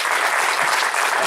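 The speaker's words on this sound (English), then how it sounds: "I just think we owe them all a round of applause." Audience applause at a civic meeting, a steady dense wash of many hands clapping without a break for over a second, loud and close, with no talk over it.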